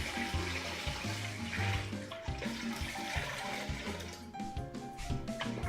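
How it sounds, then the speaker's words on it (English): Water runs steadily into a holiday poultry brine of wine, herbs and mustard spices, a continuous pouring rush heard close over soft background music. "now I'm going to go ahead and add water to this"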